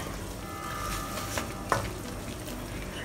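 Thinly sliced okra, about 80 grams, hits a hot pan and sizzles with a steady, dense frying hiss, close and fairly loud, marked by a couple of brief clinks from the utensil.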